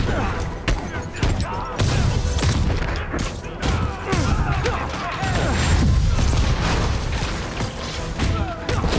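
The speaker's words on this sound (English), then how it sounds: "God damn these guys and their fucking rockets" Rocket explosions and heavy combat booms in the Spider-Man PS4 video game, a dense, continuous barrage of loud impacts and blasts with scattered thuds over a busy game soundtrack.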